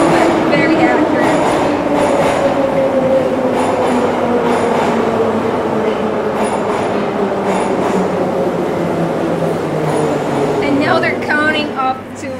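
A Moscow metro train pulls into a station, a loud, steady rumble of rolling wagons with descending brake tones and faint wheel squeals, tapering as it slows near the end.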